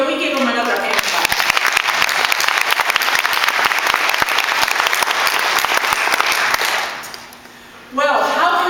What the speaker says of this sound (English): Can we give them another hand clap?